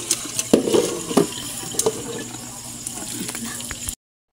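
Water from boiled banana heart is drained through a strainer in a kitchen, with a steady close trickle and splashing broken by irregular clatters and knocks before the sound cuts off.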